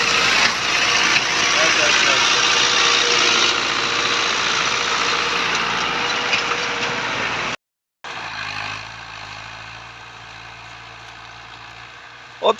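A New Holland 640 tractor engine drones steadily and loud pulling a disc harrow with heavy wheel slip, cuts out briefly, then returns as a lower, quieter hum.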